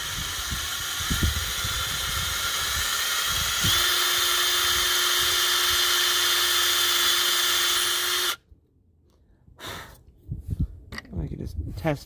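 A drill bores a hole in a Roadtrek camper van's window frame, clamped down during a CR Laurence acrylic window replacement. A loud, steady whine runs for about eight seconds, then cuts off, followed by brief handling rustles.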